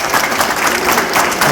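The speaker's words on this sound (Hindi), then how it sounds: "सारे अपने बच्चों से कहूँगा कि एक बार जोरदार तालियों से उनका स्वागत करें।" A crowd of school children at a carnival celebration clap loudly and densely for a guest in a brief burst of applause.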